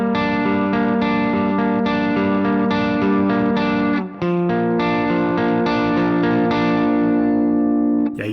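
Electric guitar through a Bogren amp on a slightly dirty clean breakup tone, with a gentle warble, strums sustained chords continuously with no talking, pausing briefly midway before ringing on.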